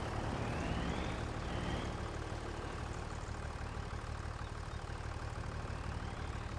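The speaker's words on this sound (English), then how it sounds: "So I'm going to get the tractor down there." A farm tractor engine runs as a continuous, loud, broadband rumble with steady noise throughout and no distinct changes, dominating the recording without speech.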